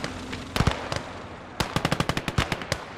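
Machine-gun fire in the World War II strategy game Gates of Hell: a few scattered shots, then a steady run of sharp, close bursts repeating in a quick, uneven rhythm, with no talk.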